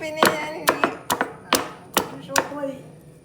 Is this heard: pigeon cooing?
no